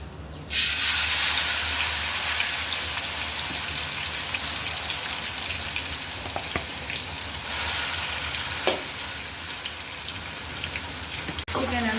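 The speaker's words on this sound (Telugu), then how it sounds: "దీంట్లోనే ఇప్పుడు చికెన్ ఫ్రై చేసేసుకుందాం" Marinated chicken for biryani hits hot oil in a pot, bursting into a loud, dense sizzle that holds steady for several seconds, broken by a few stirring clanks.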